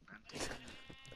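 A sheep bleats once in the Minecraft video game, a short, wavering cry that comes through clearly at low level.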